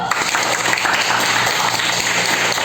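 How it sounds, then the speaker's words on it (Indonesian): A group claps in a classroom during a teaching practice session: brief, continuous, fairly loud applause with a dense, even wash of hand claps and no pause. "kita kasih tepuk tangan dulu"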